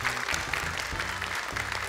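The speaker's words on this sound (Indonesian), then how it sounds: "Boleh tepuk tangan untuk mereka." Studio audience applause at an Indonesian televised Quran memorization competition for children, a steady wash of clapping at moderate level with low musical tones underneath, lasting about two seconds.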